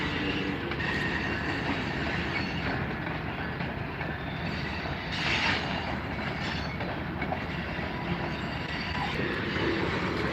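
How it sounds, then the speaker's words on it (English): A model railroad train rumbles steadily throughout, a continuous noisy roar with faint clattering of wheels on track, fairly close and unbroken. "This looks like a model railroad set."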